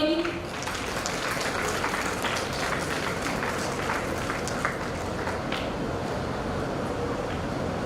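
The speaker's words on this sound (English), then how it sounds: "Dear audience, please keep applauding." Steady applause from a large audience at a pharmaceutical research symposium continues throughout, dense and even, with scattered sharper claps standing out.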